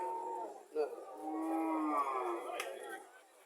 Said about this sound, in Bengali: এটা সাইওয়াল জাতের গাভী